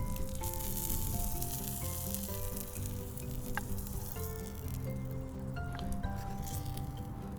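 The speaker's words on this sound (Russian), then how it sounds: "Мясо приготовилось, прошло где-то минут 15, она уже жарится" Meat fries on a hot stone over a gas flame outdoors in the wind, giving a loud, continuous sizzle with occasional faint clinks and no talk.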